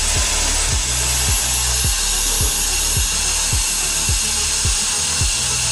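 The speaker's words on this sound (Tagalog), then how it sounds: "And try naman natin i-on yung kanyang fan, pero bago ang lahat, ilagay muna natin yung kanyang nozzle na mas malaki." Keelat turbo fan running with its larger nozzle fitted, a loud steady rushing whoosh over a low rhythmic thumping roughly twice a second.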